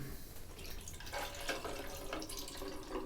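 Film fixer liquid is poured during film developing, giving a continuous splashing, trickling pour that grows slightly busier midway, close and without talk.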